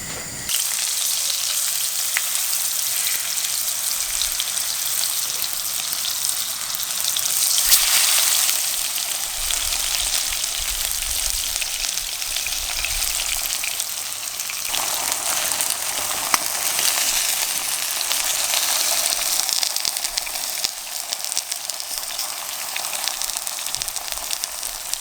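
Thin pangasius fillet pan-frying in extra virgin olive oil, a steady close sizzle and crackle running continuously throughout with a brief louder spit partway, no talking.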